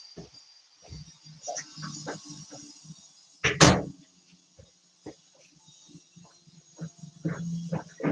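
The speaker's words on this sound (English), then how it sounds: "I'm just going to get up and shut the door" An indoor door is shut with one firm, close thud partway through, surrounded by quieter knocks and rustles of someone moving about the room.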